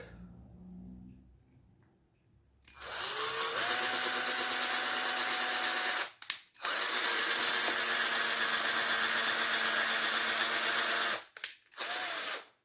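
A power drill bores into a 3D-printed Super Mario statue in two long, loud, steady runs of whirring, with a short stop between them and a brief final burst.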